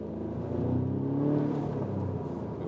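A 300 hp Audi S3 sedan with quattro accelerates hard to overtake, its engine swelling into a steady, close rumbling drone that rises and then settles back, with no talking over it.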